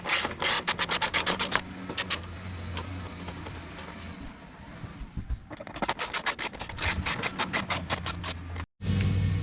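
Bolts come off the tail of a BMW S1000RR motorcycle, rapid ratcheting clicks in close bursts separated by quieter scraping and handling noise.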